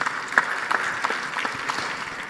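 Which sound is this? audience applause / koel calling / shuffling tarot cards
audience applause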